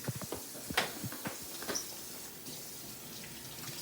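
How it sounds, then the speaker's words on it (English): Tap water runs into a kitchen sink for hand washing, a steady splashing stream with a few louder splatters and clatters early on, fairly close and with no voices. "Hot water is always better for washing"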